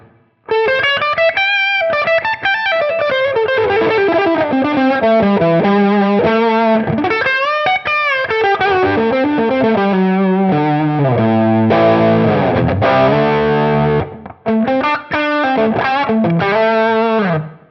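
Electric guitar played through a $27 Dumble-style overdrive pedal with the gain cranked up, loud, saturated sustained notes and chords phrased continuously with only brief gaps.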